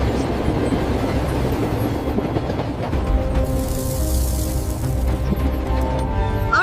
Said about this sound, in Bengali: ঢাকা পথে আসা 1 লেবু ভর্তি ট্রেনের ব্রেক ফেল হয়েছে